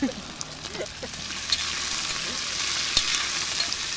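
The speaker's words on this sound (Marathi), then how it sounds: "थोडंसं हलवून द्या त्या कुकर मधल्या मसाल्याला" Masala with chopped onion sizzles in a pressure cooker while a spoon stirs it, a steady close frying hiss with a few scraping strokes and no talk.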